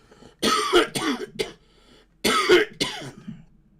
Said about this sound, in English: I told you the cough was back, didn't I?